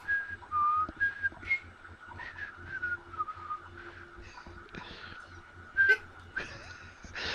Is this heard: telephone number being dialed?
no